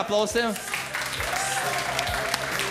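Applause from a karaoke championship audience as contestants return to their seats, a steady crowd clatter with a voice talking over the start and brief vocal sounds later.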